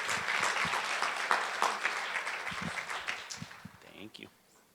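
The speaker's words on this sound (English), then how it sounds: "Can you all give him a round of applause as he comes up," An audience applauds to welcome a speaker at a morning organizational meeting. Dense, steady clapping from a crowd fills most of the stretch and thins out toward the end, with voices talking underneath and as it fades.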